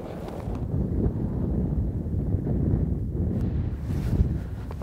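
Strong wind buffets the microphone on an open hillside during a woodland caribou hunt, a steady low roaring rush that swells and dips throughout with no voices.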